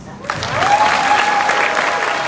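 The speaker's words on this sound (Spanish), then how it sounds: "Fuerte el aplauso para nuestra directora de especialistas, doctora Romina Malano." Audience applause for a specialists' director at a company presentation, starting abruptly after a brief quiet and swelling into sustained, even clapping from a large crowd.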